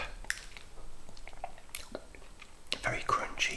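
Crunchy Nestle Toffee Crisp chocolate bar being bitten and chewed, with soft, close crunches and moist chewing clicks in irregular bursts, louder toward the end, while quiet whispery talk passes between bites.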